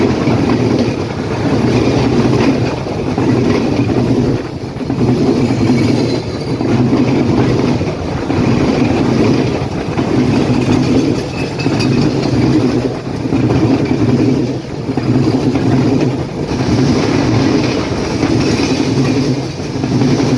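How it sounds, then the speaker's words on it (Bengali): The Dhumketu Express, Dhaka to Rajshahi, pulls in behind a class 6640 diesel locomotive, its wheels beating a steady rhythmic clatter over the rail joints with engine rumble underneath, loud and close throughout, with no voices. "এই মুহূর্তে প্রবেশ করছে ঢাকা থেকে ছেড়ে আসা রাজশাহীগামী ধূমকেতু"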